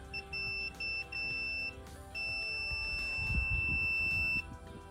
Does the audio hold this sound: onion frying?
no